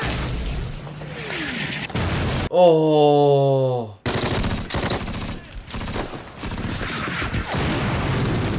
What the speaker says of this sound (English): Oh my god, all of these real explosions.